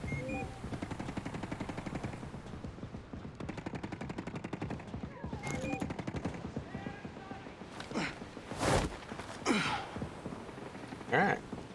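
Turret machine-gun fire in Ghost Recon Breakpoint, with rapid bursts of gunshots at mid distance and a few louder single cracks toward the end, alongside other game sounds.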